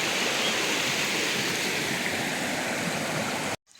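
Water rushes steadily through a channel in a peanut field, fed from a newly joined pipeline. It makes a loud, continuous broadband gush close by, with no voices, and cuts off abruptly at the end.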